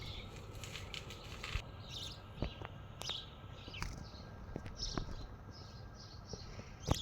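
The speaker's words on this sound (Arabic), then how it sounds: "هذا هو البلبل." A pet bulbul outdoors in early morning sun gives several short, sharp chirps and a soft flutter of wings, scattered irregularly over faint background noise, fairly close and quiet.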